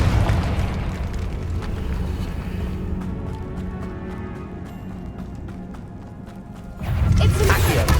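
A Confringo fire spell from Hogwarts Legacy bursts with a loud, rumbling blast that fades into a lingering roar, then a second heavy burst erupts near the end.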